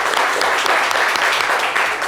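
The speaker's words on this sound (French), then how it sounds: "Vous allez les saluer et les applaudir bien fort." Loud, dense applause from a studio audience at a French-language live show, a steady unbroken roar of clapping with no talk over it.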